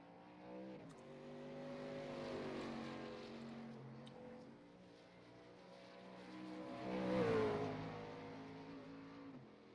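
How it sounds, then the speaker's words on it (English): A racing truck engine revs and drones steadily as it pulls away from pit road during an ORRL Sunday night truck race, with a second louder rise in engine pitch near the end and no talk. "let's see who the first truck is to make their way off of pit road"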